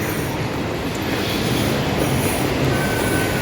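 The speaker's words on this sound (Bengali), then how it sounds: "বাবা আর ছেলে যাচ্ছে ট্রেন চড়তে সিটি সেন্টারে" City-centre ride train running with a steady, loud rumble and faint wheel squeal throughout, a continuous rolling noise with no talk.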